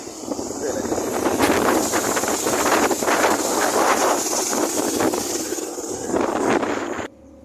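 Strong outdoor wind buffets the microphone on a hillside, a loud continuous roaring rush that swells and eases, with a voice talking faintly underneath before it cuts off abruptly near the end.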